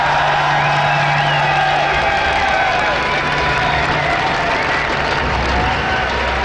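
A live audience at the StarCraft II WCS Season 2 Finals, Bomber versus Grubby, cheers and applauds, a dense, loud wash of clapping with whoops and shouts sustained throughout, with no one talking over it.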